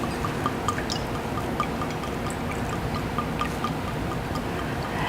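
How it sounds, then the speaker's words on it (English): Blanco tequila pours into a cocktail shaker in a steady, close liquid stream, with light drips and splashes over an even wash of sound and no speech. "Tequila in my cocktail shaker works for me."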